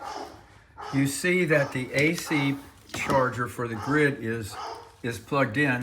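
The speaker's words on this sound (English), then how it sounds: "my dog is barking" A dog barks repeatedly in short bursts somewhat off in the background, while someone talks over it near a home battery and generator power setup.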